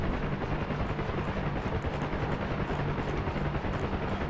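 A UH-1 helicopter in the DCS flight game runs as its throttle comes up: a loud, continuous rotor and turbine roar with a deep thudding low end, steady and close with no voices.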